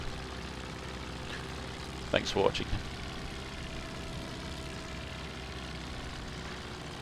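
A Fokker D7 World War I fighter in Rise of Flight drones steadily through a high-speed dive, a constant engine and wind roar heard under a brief spoken voice.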